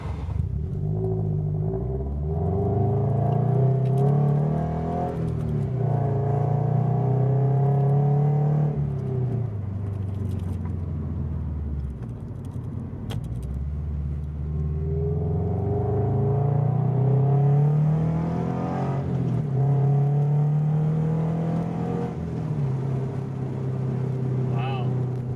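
A car running on E85 fuel without its supercharger accelerates in repeated waves, the engine drone rising in pitch through each gear before dropping at each shift, heard from inside the cabin with steady road rumble.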